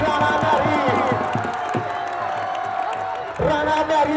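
A crowd at a village kabaddi club final roars and cheers steadily, loud and continuous, with a surge near the end. A voice talks over the noise throughout.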